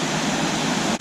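A multi-tier waterfall at Ricketts Glen State Park roars in a steady, broadband wash of falling water, close and continuous, with a brief dip right at the end.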